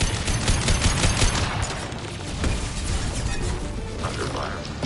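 Rapid bursts of weapon fire in the sci-fi shooter Mass Effect 2 on Insanity difficulty, loud and dense at first with mechanical clatter, then thinning into scattered shots and softer game noise.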